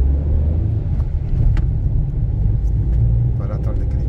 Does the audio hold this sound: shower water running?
no